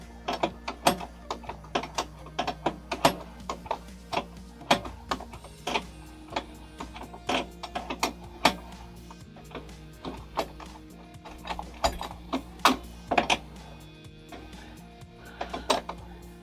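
A ratchet drives bolts in during an installation, a steady run of close, crisp clicking bursts repeating throughout with brief pauses between strokes.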